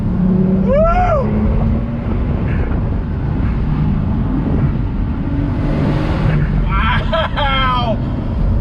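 A Porsche 911 Turbo drives hard, its engine a steady low roar under excited voices, with some tire or wind noise rising as the car corners.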